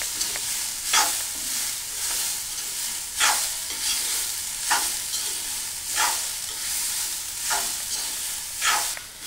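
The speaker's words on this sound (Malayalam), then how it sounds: "നന്നായി ഒന്ന് ഇളക്കി കൊടുക്കാം." Banana flower stir-fry (vazhakoombu thoran) is stirred in hot coconut oil in a pan, soft continuous sizzling punctuated by about seven rhythmic scraping strokes of the spoon, close and without talk.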